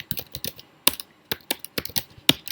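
Quick, irregular clicks of typing on a computer keyboard, close and fairly quiet, in small clusters of keystrokes with short gaps.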